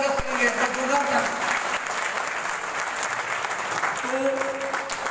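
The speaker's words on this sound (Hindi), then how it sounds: "मैं चाहूंगा हमारे पुराने साथी हमारे नए मेहमानों के लिए जोरदार ताली से स्वागत करेंगे।" Loud, sustained applause from a banquet hall audience welcoming new guests, dense clapping throughout with faint tonal hum and voices briefly underneath.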